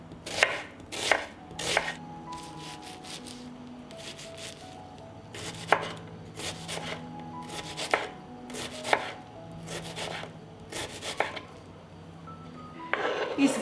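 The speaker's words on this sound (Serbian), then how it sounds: "Iseckala sam crni i beli luk" A knife chops an onion on a board, with close, crisp strikes coming in quick bursts separated by short pauses in a quiet kitchen.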